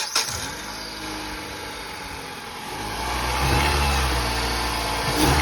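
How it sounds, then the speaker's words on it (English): A Dodge car engine fitted with a short ram cold air intake cranks and catches, then settles into a steady idle that swells slightly, with another brief rise near the end. "Start the car and see how it sounds"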